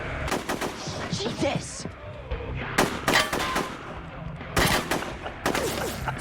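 Gunfire from an episode of the TV series Shameless comes in several sharp, loud bursts of rapid shots separated by short gaps, with voices speaking between them.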